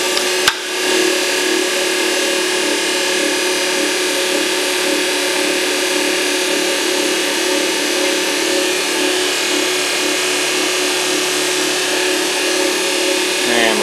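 An electric motor driving a generator in a motor-generator loop runs as a steady, loud hum with a whine, continuing evenly with a slight shift as the generator load comes on.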